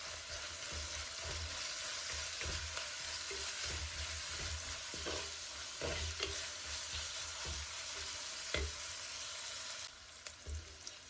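Onion with curry leaves and pandan leaves fries in a pan for a beans and cashew nut curry, a steady broadband sizzle throughout with frequent soft scraping stirs and light knocks, close and fairly loud, no voices.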